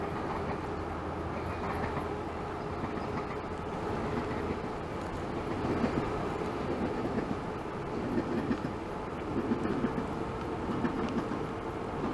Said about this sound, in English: we get to catch an eastbound GO train